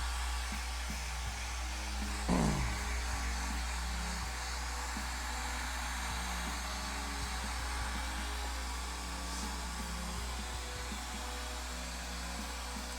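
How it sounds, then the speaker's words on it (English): A hair dryer blows steadily over a painting, a constant close whooshing hum with a low motor drone that runs unbroken throughout, with one brief rising whine early on. "I'm going to blow dry this."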